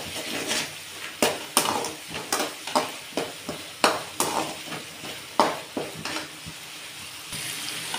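Turmeric is stirred into a mixture frying in a pan with small capers for Andhra-style pulusu rice, producing a close sizzle broken by a rapid series of sharp spoon scrapes and clinks against the pan.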